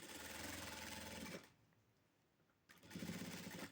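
A sewing machine stitches a blouse in two loud, fast-running bursts, a buzzing mechanical whir that stops for about a second between runs.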